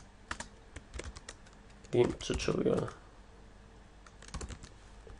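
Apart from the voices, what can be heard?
typing on a computer keyboard in the Vim editor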